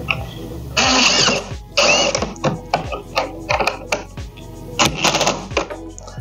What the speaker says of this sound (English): you're going to take your drill and your Phillips head, and you're going to screw this in